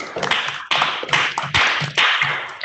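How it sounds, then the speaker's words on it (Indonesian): A classroom group applauds group 4 with rhythmic, patterned clapping: sharp bursts of many hands repeating at an even pace, close and lively. "Tepuk tangan buat kelompok 4"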